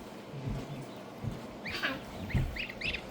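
Several geese honk in short bursts from a moderate distance, a few calls overlapping, over quiet outdoor background noise.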